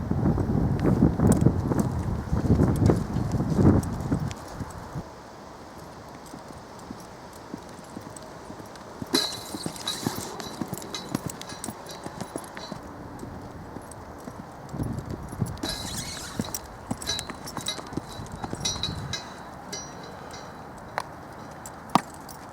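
A horse ridden bareback, with no saddle or stirrups, clops along in bursts of uneven hoofbeats, the thuds coming near and then far, with gusts of wind buffeting the microphone between them.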